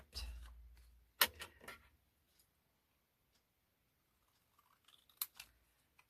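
Paper being cut for handmade ephemera tags, a few close, quiet snips and crisp scissor strokes in two short clusters separated by near silence.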